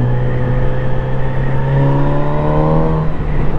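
A Kawasaki Z900 RS motorcycle engine hums steadily while riding, its tone rising smoothly as the bike accelerates, close and loud with rushing wind noise and no talk.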